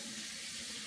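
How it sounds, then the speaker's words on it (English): A kitchen tap runs steadily while hands are washed before making Dutch oven bread, a brief, even hiss of flowing water close by with no voices. "So let me wash my hands."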